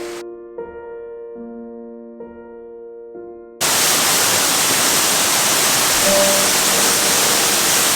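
Steady, loud rushing roar of a waterfall, with spray, cuts in abruptly after a few seconds of sustained tonal notes, continuing without a break.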